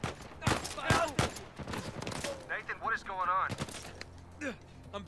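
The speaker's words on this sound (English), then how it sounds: "I'm being shot at." Gunfire in the video game Uncharted 4, a rapid series of sharp shots in bursts mixed with game voices and a speaking player, fairly faint and partly under the talk.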